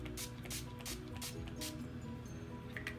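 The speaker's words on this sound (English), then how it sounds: "I'm going to use my NYX First Base Spray, and I'm just gonna spray it really lightly" NYX First Base setting spray is misted lightly over a face in several short, soft hisses spaced about half a second apart, close and quiet with no talking.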